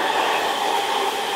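A hair dryer blows a steady, loud whooshing hum close by as it dries a man's fine, short hair, continuous and even with no talking over it.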